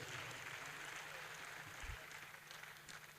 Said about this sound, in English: Can we double that applause for Madam Vice Chancellor?